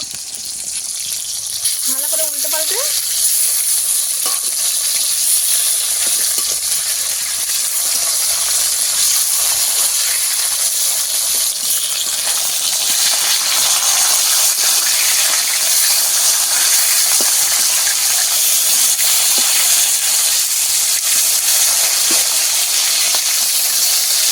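Bogo fish pieces fry in hot oil, filling the air with a loud, continuous close-up sizzle and hiss that runs unbroken throughout.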